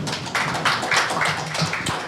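Audience applause at a Korean housing policy forum as a researcher is introduced, a steady patter of hand claps lasting a couple of seconds with no talking.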